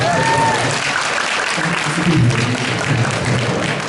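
Dense, steady applause fills a spring banquet concert hall in a convention center, with a faint voice briefly audible at the start.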